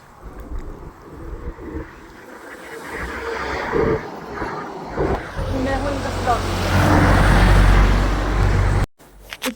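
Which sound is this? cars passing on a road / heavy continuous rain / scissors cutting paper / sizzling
cars passing on a road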